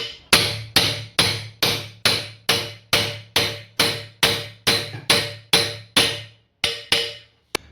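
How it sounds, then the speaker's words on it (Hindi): A hammer drives a pin into a machine with a steady run of about fifteen loud, sharp metallic strikes at an even beat, each ringing briefly. A short pause comes near the end before a final blow. "ठोकू जो डार्ट के ऊपर ऐसे रख देंगे, उसके बाद हथौड़ी से इसे ठोक देंगे"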